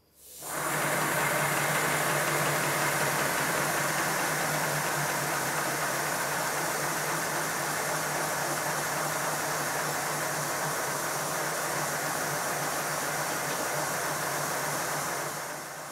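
A model Simplex prairie tank steam locomotive runs on compressed air at around 40 psi, giving a loud, steady, continuous hiss and rapid chuffing that holds evenly from start to finish.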